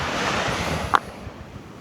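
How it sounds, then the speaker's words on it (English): Wind gusting by the water at Myola, New South Wales, a broad rushing roar with surf-like wash and microphone buffeting, fading slightly after a brief thump. "That wind's picking up now."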